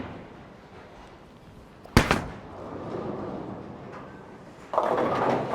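A bowling ball on a test shot crashes into the pins with one sharp loud impact, followed by a rolling rumble and scattered pin clatter in a reverberant alley.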